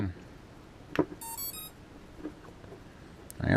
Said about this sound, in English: it sounded like everything beeped, we don't get any fire